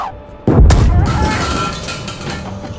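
Tank cannon firing in GHPC, one loud close boom with a heavy low thump that rolls off into a long decaying rumble, with no talk over it.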